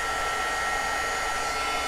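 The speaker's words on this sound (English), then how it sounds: "So we're just going to heat all of these real quick." An electric heat tool blows steadily and close, a continuous fan-like whoosh with no breaks, aimed at embossing powder on thick cardstock.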